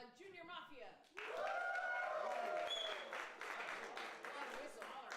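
Applause and cheering from an improv comedy show audience voting on a scene, a crowd roar after a short spoken lead-in, with whistles and voices over the clapping.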